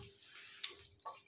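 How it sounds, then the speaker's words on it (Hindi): Water is added to a ground chickpea mixture for nimona, a rustic Indian dish, producing a faint, brief pouring and trickling with a couple of small splashes, and no talking. "पानी मिला लूँगी।"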